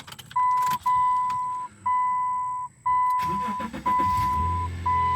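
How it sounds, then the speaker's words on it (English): A Subaru Outback 3.6R with newly installed knock sensors cranks and fires up, settling into a low idle rumble beneath a repeating steady electronic chime that sounds in close, evenly spaced bursts. "Car starts right up"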